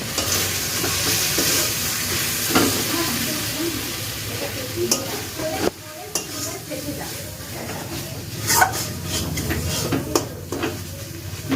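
Water poured into a pan of frying potato, pea and paneer masala cooked with very little oil, with steady sizzling, stirring scrapes and a few utensil clinks close by.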